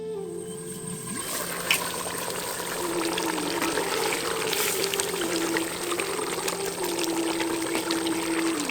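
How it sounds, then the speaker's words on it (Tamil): Water poured into a clay pot of mutton for goat biryani, a continuous steady pour and trickle lasting several seconds, close and fairly loud with a rising tone as the pot fills. "அதில் பாதி தண்ணியை இப்போ ஊற்றி கறியை நல்லா வேக வச்சிடலாம்."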